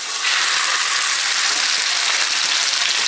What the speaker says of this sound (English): Gotta get that sizzle.